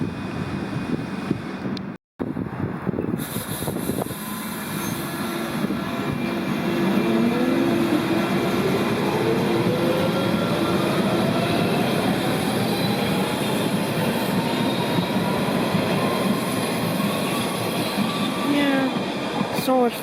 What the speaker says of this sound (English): this train here, I think it's for Epping